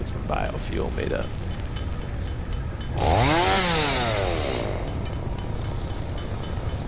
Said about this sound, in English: The nice thing is that the chainsaw does do some kind of area gathering.